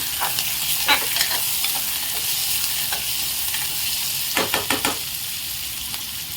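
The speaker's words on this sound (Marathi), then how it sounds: "राई तडकल्यावरती एक मोठा कट केलेला कांदा तो थोडा परतून घेऊ" Chopped onion frying in a pan of hot oil with spluttering mustard seeds for aloo palak, a steady sizzle broken by bursts of stirring and scraping against the pan, close and alone.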